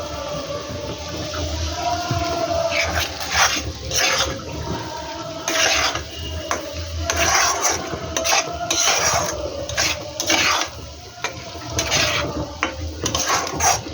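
A spatula scrapes and stirs repeatedly in a pan of spiced meat and potatoes, with steady frying sizzle underneath and rhythmic bursts of scraping throughout.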